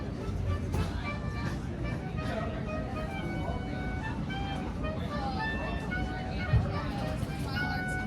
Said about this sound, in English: I've had a saxophone playing for the past 20 minutes, playing the exact same tune over and over and over again